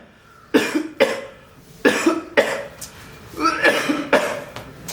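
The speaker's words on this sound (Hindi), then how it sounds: "2 हफ्ते से जब से आया खांसी जा रहा, जनरेटर जैसा भाव रात को सोने नहीं देता है" A tuberculosis patient coughs repeatedly, loud close harsh bursts in irregular clusters, each followed by breathy tails.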